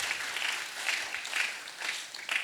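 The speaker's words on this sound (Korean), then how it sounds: "하나님께 영광의 박수 찬양으로 드리고" Church congregation applauding during a mission festival service, a steady wash of many hands clapping at moderate distance, fairly soft and continuous with no voices on top.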